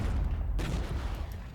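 Artillery fire in the Regiments strategy game: a deep booming blast lands, then a heavy rumbling decay with scattered crackling fire rolls on behind it. No voices.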